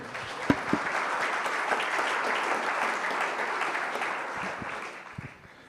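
A church congregation applauding together, dense steady clapping from a crowd of worshippers that holds for several seconds and then tapers off, with a few louder claps near the start and end.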